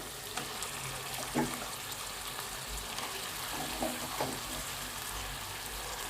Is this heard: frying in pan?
yes